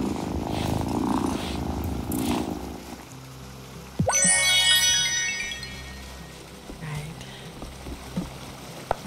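A cat purrs softly in the cozy witch video game Wylde Flowers, a low rumbling hum under game music and a bright chiming flourish midway, with a voice talking near the start.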